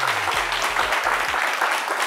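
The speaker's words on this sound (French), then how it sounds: "Vous avez raison de l'applaudir" Studio audience applauding a guest on a French-language midday TV talk show, steady dense clapping throughout with a low tonal hum underneath, fairly loud and sustained.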